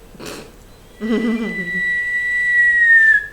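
A short breathy noise burst, then a sustained high whistling tone that holds steady and slightly falls before cutting off.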